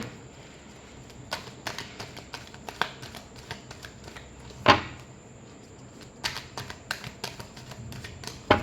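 Tarot cards being shuffled by hand, a series of crisp slaps and riffles at irregular intervals with a few sharper snaps, close and fairly quiet, with no voices.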